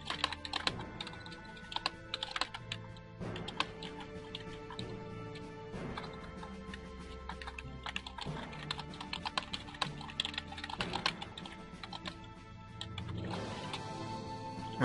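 Keyboard typing while composing in-game mail in Atlantica Online, a steady run of quick clicky keystrokes with short pauses, close and continuous over a soft game background.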